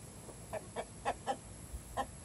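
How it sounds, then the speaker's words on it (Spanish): Several short clucks from chickens and roosters, spaced irregularly over a couple of seconds, fairly quiet against a faint background. "Nada más que tenemos muchos gallos. Ahí andan, miren, están bien grandotes ya."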